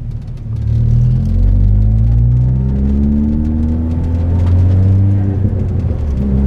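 A 320 bhp Ford Fiesta ST accelerates hard through an overtake, its engine rumble and rising rev tones climbing through the gears loud and close from inside the car, with no voices.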